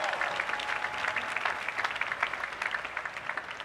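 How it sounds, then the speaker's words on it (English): Graduation audience at a university final exercises applauding the band and ROTC color guard, dense crowd clapping with rapid, distinct hand claps that stay steady throughout. "They deserve a round of applause."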